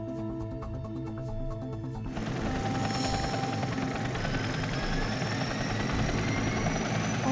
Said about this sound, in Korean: 드디어 헬기가 도착하고